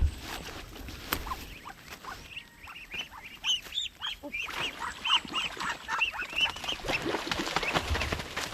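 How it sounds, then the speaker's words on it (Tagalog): Ducks quack and patter in scattered, fairly faint bursts beside a homemade backyard pool, with some rustling and no talk over them. "Huli ako ng pato."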